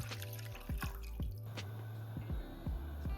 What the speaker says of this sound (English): Grab a small saucepan or teapot and add water.